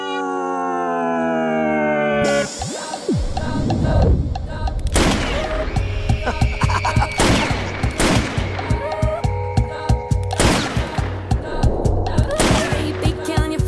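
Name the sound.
gunfire in a movie scene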